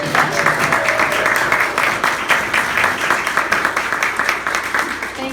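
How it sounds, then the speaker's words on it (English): Audience applause for the group's president at a potluck talk gathering: a dense, steady patter of many hands clapping at moderate distance, sustained for several seconds with faint murmuring mixed in. "Let's have a round of applause for her."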